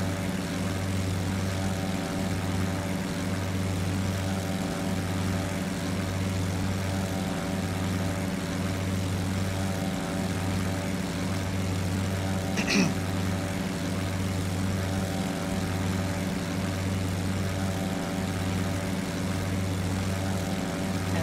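A propeller airplane climbs toward cruising altitude after takeoff from Mumbai Airport, its engine droning in a steady, pulsing hum heard from inside the cabin for the whole stretch.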